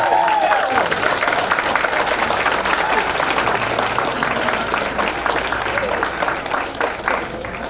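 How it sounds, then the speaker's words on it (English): A crowd at an athletic Hall of Fame recognition applauds the 2022 inductees, five individuals and a 1972 state championship team, with loud sustained clapping and some cheering, briefly overlapped by a voice at the start before easing slightly. "Let's give them a big round of applause"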